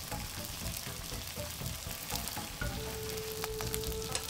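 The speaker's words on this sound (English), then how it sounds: "Line up the marinated liver pieces on the heated pan." Marinated pork liver pieces sizzling in a heated pan, a steady close frying hiss with small crackles and pops, a faint tone appearing partway through, no talking.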